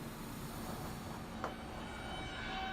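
A northbound E subway train in the OpenBVE train simulator, bound for the World Trade Center, pulls away with a steady, low rolling rumble and a faint metallic squeal midway, quiet and continuous throughout.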